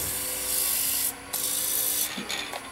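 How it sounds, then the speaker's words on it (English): Steady hissing friction of sandpaper against a Roman flask spinning fast on a single-speed wood lathe, close and continuous, with a couple of brief pauses where the paper lifts off. "a little bit of sanding, light sanding"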